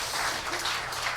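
A studio audience at a talk show gives a brief, fairly loud burst of clapping, a dense even round that lasts about a second.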